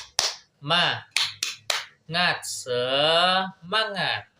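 A 'tepuk semangat' ice-breaker: sharp rhythmic hand claps in a set pattern, interleaved with a loud chanting voice that dominates between the claps.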